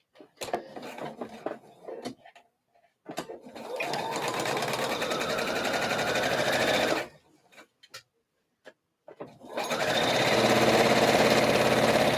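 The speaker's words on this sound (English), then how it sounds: "So now we're going to stitch with our normal stitch length to this point here, back tack" A sewing machine runs in long steady bursts while stitching a seam on a slip dress, with short pauses and clicks between runs, close and loud.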